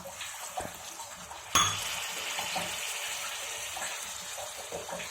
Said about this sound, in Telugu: మనం చిన్న గ్లాస్ వాటర్ వేసుకుందాం